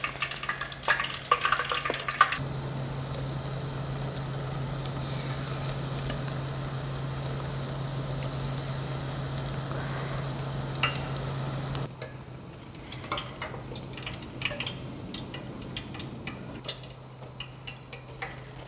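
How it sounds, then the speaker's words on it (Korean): Oil sizzles and crackles steadily as vegetables deep-fry for mushroom sweet-and-sour, with a constant hiss, occasional clinks, and a quieter stretch near the end. "야채 첫 번째 튀기실 때는 겉이 바삭할 정도로만 튀기시고요"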